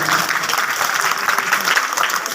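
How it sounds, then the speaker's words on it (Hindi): Loud, dense clapping from an audience honoring a poet at a Hindi poetry recital, continuous for the whole short stretch with no voices over it. "जोरदार ताली बजाएं"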